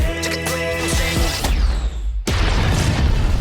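A comic-style explosion boom in a music video hits mid-clip over the pounding track, leaving a heavy rumbling burst that carries on loudly after a brief dropout.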